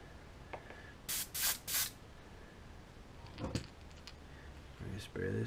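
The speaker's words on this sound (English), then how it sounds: "We're gonna get this in the sprayer." Short bursts of an airbrush-style paint sprayer hissing as it coats a bluegill crankbait in a small workshop, three quick sprays and then two more, with brief handling clatter between them.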